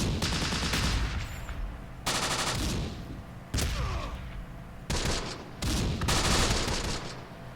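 In the Close Combat: The Bloody First WWII game, Italian Bersaglieri troops fire at an American BAR team, loud volleys of rifle and machine-gun fire crackling in several separate bursts with brief gaps between.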